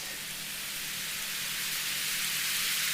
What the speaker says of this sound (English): Oh, the rain. It got really loud.